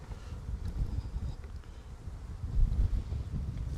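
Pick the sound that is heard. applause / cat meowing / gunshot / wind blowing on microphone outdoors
wind blowing on microphone outdoors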